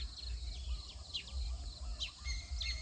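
A small white-headed bird chirps from a treetop, its bright, quick chirps repeating every second or so over a steady low outdoor rumble.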